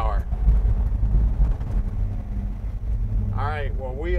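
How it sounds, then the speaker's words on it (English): Air being drawn through the ramjet fuel injection intake on a 1947 International KB-1 pickup, a continuous low, rough engine rumble with a rushing intake sound, and some wind buffeting toward the end. "That's actually the fuel injection on that ramjet, sucking air, making horsepower."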